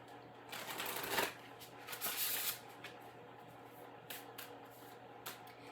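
Spellcasting oracle cards are shuffled close up in a quiet room during a tarot reading, a few crisp riffling bursts followed by softer scattered card flicks.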